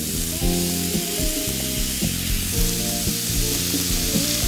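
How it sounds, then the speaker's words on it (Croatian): Ćevapi sizzle steadily in a lightly oiled grill pan, a continuous close crackle of frying meat with no talk. "Pećemo ih sa svih strana u grill tavi koji smo premazili sa malo ulja."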